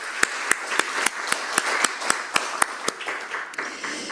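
Audience at a Paris 2024 Cultural Olympiad Arts & Sports prize ceremony clapping for a winner, heard as sparse, evenly spaced individual claps with crisp attacks over a steady crowd-clap wash for about four seconds.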